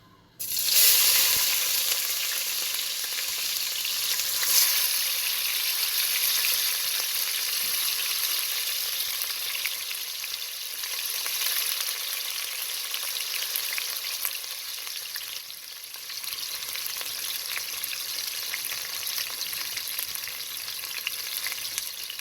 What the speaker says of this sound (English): my oil hot now. So what I'm going to do, I'm going to add in my onion and my tomato and my pepper